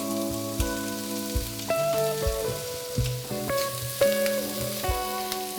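Mushrooms sizzling in butter in a pan for an omelette, a soft steady crackle close by with musical tones layered over it, no talking.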